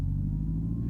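A low, steady engine hum from a Hyundai Ioniq 5 N drones evenly at low revs, deep and continuous with no other sounds.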